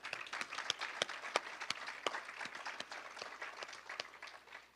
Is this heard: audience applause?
yes